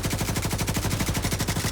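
Light machine gun in The Division firing a sustained, rapid automatic burst of evenly spaced loud shots that runs steadily with no pauses.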